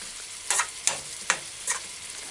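A jerk hamburger patty fries in a pan with a steady close sizzle, broken by four sharp clicks of a utensil against the pan spaced about half a second apart.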